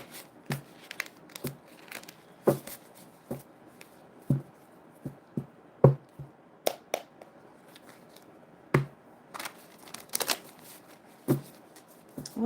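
Tarot cards being shuffled and handled, heard as a series of crisp, irregular riffling and snapping bursts with quiet gaps between them, close and fairly soft.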